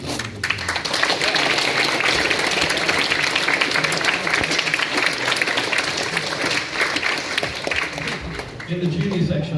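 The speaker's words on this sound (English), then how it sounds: "a big round of applause" A film competition awards audience, likely at a school event, breaks into loud sustained applause that fills the room at full strength throughout, with voices audible beneath the clapping and a brief dip near the end.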